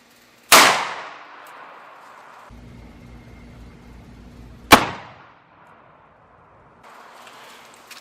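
A .357 Magnum fires into a stack of 600 paper plates, with two loud, sharp outdoor blasts about four seconds apart, each followed by a ringing decay.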